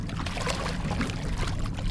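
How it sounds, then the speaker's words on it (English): Water pouring and churning close by as a bull redfish is released back into the water, a steady splashy wash without talking. "Let's go ahead and get this fish back in the water."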